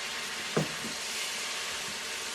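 Konjac imitation shrimp hit a hot pan for a low-protein scampi, giving a steady, close broadband sizzle with a soft thud just as they land.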